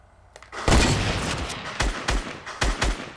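Gunfire in a shooting video game comes as loud, close bursts of several rapid shots, with a boom near the start and short gaps between volleys.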